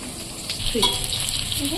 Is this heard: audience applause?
no